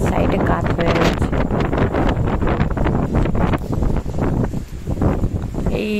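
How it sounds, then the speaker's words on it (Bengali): Strong stormy wind roars through trees bent to one side, a continuous gusting rush with rustling bursts and heavy buffeting against the microphone, loud and close throughout. "দেখো এত জোর হাওয়া দিচ্ছে, গাছগুলো পুরো একটা সাইডে কাত হয়ে গেছে।"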